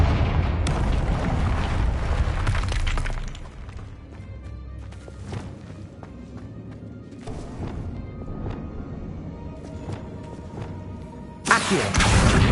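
Confringo blasting spells burst in the video game Hogwarts Legacy as heavy booming explosions open the scene. Quieter magical impacts and rumbling follow, and another sharp blast lands near the end.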